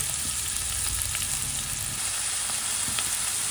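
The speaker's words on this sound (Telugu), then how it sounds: "ఆయిల్ కాగిన తర్వాత ఇప్పుడు ఉల్లిపాయలు పచ్చిమిర్చి సన్నగా వేసుకోవాలండి" Sliced onions and green chilies frying in hot oil for a prawn, eggplant and raw mango curry, a steady dense sizzle with soft crackling, close and continuous, without any voice.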